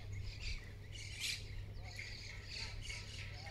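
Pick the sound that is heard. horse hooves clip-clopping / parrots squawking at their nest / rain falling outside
parrots squawking at their nest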